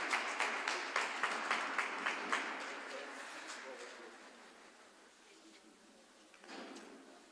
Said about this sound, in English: I think that we should give a round of applause for